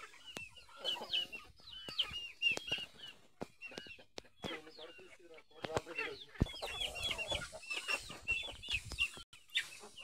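Village chickens cluck and chirp in a near, lively chorus of overlapping calls, with sharp taps and clicks scattered among them and brief quiet gaps between bursts.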